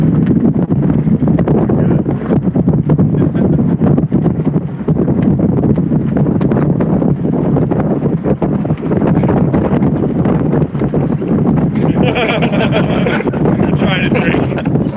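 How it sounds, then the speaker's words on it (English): Strong wind gusts batter a boat during a tropical storm, a continuous loud roar of wind noise on the microphone with fluctuating rumble and bursts, while a person talks over it. "I'll wait until we have one more good gust and I'll show you guys what it's like"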